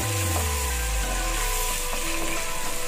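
Shallots frying in butter while being stirred, a steady close sizzle with faint tonal scrapes from the utensil against the pan.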